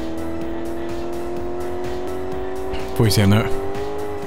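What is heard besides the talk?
Nissan GT-R test drive in video game Car Mechanic Simulator 2018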